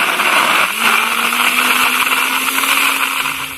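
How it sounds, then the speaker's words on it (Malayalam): An electric mixer grinder whirs loudly and continuously, blending mango and carrot juice with ice cubes, its motor pitch climbing slightly and then holding a steady high whine close up. "കുറച്ച് ഐസ് ക്യൂബൊക്കെ ഇട്ടിട്ട് ഒന്നും കൂടി മിക്സിയിലൊന്ന്"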